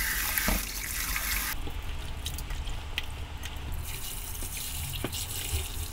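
Water runs steadily from a tap into a pot while pumpkin is rinsed in it, a continuous close splashing flow with a few brief clinks and drips from the cookware.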